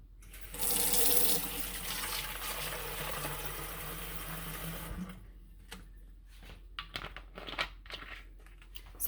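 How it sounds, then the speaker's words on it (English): Tap water runs into a homemade plastic sensory bottle, a loud steady gush for several seconds that stops abruptly, followed by scattered drips, sloshing and handling noises. "now we're going to open it up and fill it up with some water"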